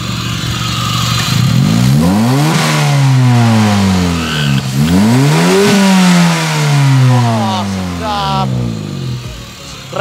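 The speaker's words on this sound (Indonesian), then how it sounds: "Bro, coba lo injek gas, Bro. Nih, kita lihat vakumnya dia bekerjanya nih." An older, modified Honda Brio engine is revved repeatedly as the gas pedal is pressed. Three rising and falling surges swell loud and close, then it settles back toward idle, with people talking over it.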